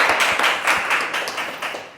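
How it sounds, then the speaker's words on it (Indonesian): Audience members applaud a presenter at a back-end development project showcase, a short burst of close, crisp hand claps that fades slightly toward the end. "kita beri tepuk tangan dulu buat Mas Rangga."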